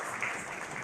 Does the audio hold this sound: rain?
no